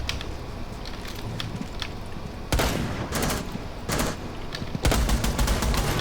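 Gunfire in Rainbow Six Siege, bursts of rapid automatic shots with several loud volleys, sharp and close over a busy background, no talk.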